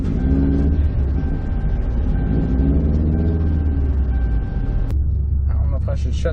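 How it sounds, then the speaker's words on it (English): A Ford Crown Victoria idles at Lanier Speedway after overheating, its engine giving a steady, close low rumble under continuous talk, with a brief click and quieter rumble at the end. "I don't know if I should shut the car off or should I let it sit here and idle, see if it overheats."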